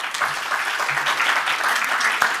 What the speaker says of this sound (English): round of applause, Brad, for doing something